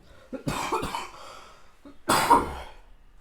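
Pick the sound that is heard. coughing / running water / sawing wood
coughing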